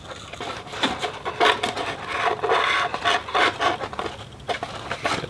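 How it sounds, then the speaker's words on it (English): A small entrance hole is worked through the side of a foam-board model plane, close scratchy rasping and rubbing strokes in irregular bursts, with no talking. "I'll make a little entrance hole through the side."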